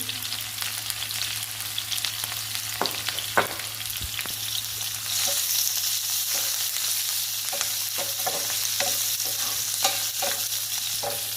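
Spices with salt and turmeric frying in a pan for a broad bean curry, stirred with steady scraping strokes over a continuous close sizzle that grows louder partway through.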